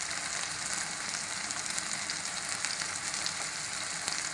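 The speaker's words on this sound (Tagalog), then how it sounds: "Magsisimula na nga tayo maggisa ng kanyang mga sahog" Onion and garlic sautéing in hot oil for a Filipino mung bean stew, a loud, dense, steady sizzle that fills the whole clip with no talking.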